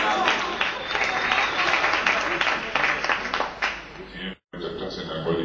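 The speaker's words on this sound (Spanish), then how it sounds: "el micrófono con un aplauso" Crowd applause at a live comedy-music show, dense clapping filling the space for about four seconds, cutting off abruptly, then a room murmur of low voices afterward.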